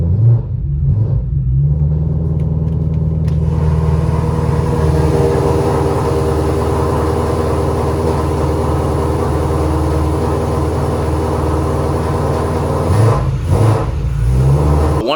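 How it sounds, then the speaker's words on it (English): BMW M3 engine idling after startup with a deep, steady rumble that swells and revs up near the end, loud and close, with no talk over it. "I'm certain my neighbors do not like the startup of this car at all."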